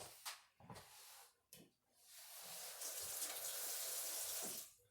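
A tap runs water over a rock shaped with a Dremel and bench grinder, preceded by a few knocks and handling clunks, then a steady close hiss of flowing water for about two seconds.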